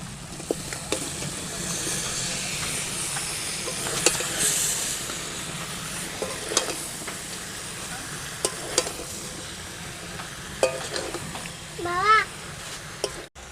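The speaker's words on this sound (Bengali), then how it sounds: "এঁচড়টা দিয়েও বন্ধুরা ভালো করে মশলাটাকে কষিয়ে নিয়েছি" Boiled jackfruit and potatoes are stir-fried in spice masala for a jackfruit and prawn curry: a low, continuous sizzle with hissing steam and repeated spatula scrapes and clinks against the pan, with no talking.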